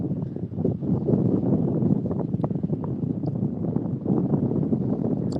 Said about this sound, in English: that wind's really picked up now